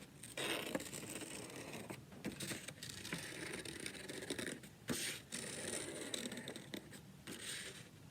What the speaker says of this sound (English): cut out a little square there, and then that will allow you to cut out the circle in the center